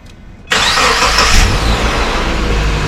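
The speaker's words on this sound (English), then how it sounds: "Now start up the vehicle" A 2012 Subaru Forester engine cranks and catches after a short quiet moment, then settles into a steady, loud, close idle.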